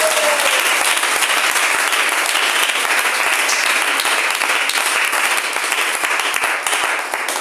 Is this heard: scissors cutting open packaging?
no